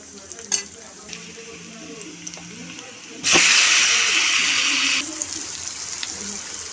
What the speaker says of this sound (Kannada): ಚೆನ್ನಾಗಿ ಫ್ರೈ ಮಾಡ್ಕೊಳ್ಳಿ ಗೋಲ್ಡನ್ ಬ್ರೌನ್ ಬರೋ ತನಕ